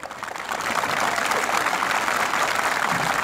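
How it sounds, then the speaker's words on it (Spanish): Scattered audience applause at an outdoor street comedy show, a thin, steady wash of clapping that swells slightly after the first half-second and holds. "Todos aplauden, te das cuenta que son pocos los que aplauden"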